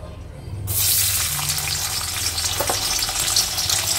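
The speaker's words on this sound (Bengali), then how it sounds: "আগে এই কাজু কিশমিশটা ভেজে তুলে নেব।" Cashews and raisins drop into hot ghee, and after a brief quiet moment a loud, close sizzle bursts out and keeps crackling steadily to the end.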